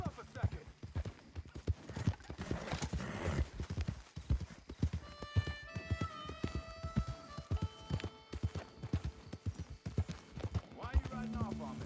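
Horse hooves clip-clopping steadily at a riding pace in the video game Red Dead Redemption 2, an even rhythm running throughout under men's conversation and light background music.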